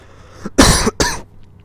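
A man coughs twice in quick succession, close and loud, with a short gap between the two harsh bursts and quiet on either side.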